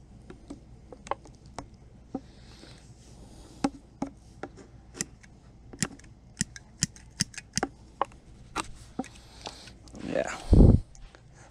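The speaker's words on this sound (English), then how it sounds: "And then you're going to cut it here at the spool." Scissors snipping braided fishing line near a spinning reel's spool, a series of sharp, dry clicks and snips spaced irregularly, close and fairly crisp, ending with a louder rustling handling noise.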